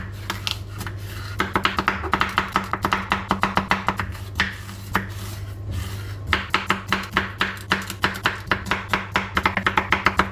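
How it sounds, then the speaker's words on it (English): Rapid knife chopping on a cutting board, dicing half a green bell pepper in quick bursts of close, crisp taps with brief pauses, over a low steady hum. "dicing half a green bell pepper,"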